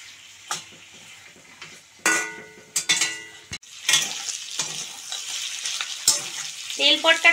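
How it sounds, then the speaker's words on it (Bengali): Fish oil sacs fry in a pan with a low sizzle broken by sharp, irregular pops and crackles, plus a few clinks of a utensil against the pan, all close and without talk. "তেল পটকাটা ভাজতে গেলে বন্ধুরা খুবই সাবধানে ভাজতে হবে,"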